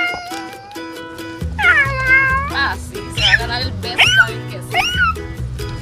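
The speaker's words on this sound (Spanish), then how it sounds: "Yo creo que es que ese gatito está ronroneando." A cat meows repeatedly in long, rising and falling cries, fairly close and loud, with a voice and music-like tones running underneath.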